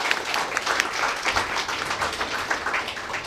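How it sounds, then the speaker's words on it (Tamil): An audience claps steadily, a dense patter of applause that holds at an even level throughout. "அதுக்கு ஒரு பெரிய கைதட்டு கொடுக்கலாமே."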